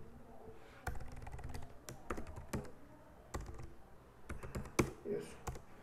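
Typing on a computer keyboard to name a button in MATLAB App Designer, a short burst of quick, close keystrokes in uneven clusters, with a few slightly louder taps near the end.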